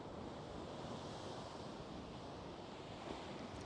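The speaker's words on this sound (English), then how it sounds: "the water is too rough for me" Rough sea waves surge and crash in a continuous loud roar, steady broadband noise with wind buffeting the microphone and no distinct breaks.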